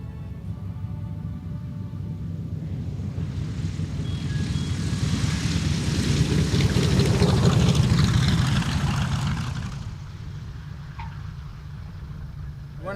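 Piston engines of a C-47 airplane, the D-Day Doll, landing at Grimes Field in Urbana, Ohio: a steady broad roar that swells to a peak midway and then eases off as the aircraft passes.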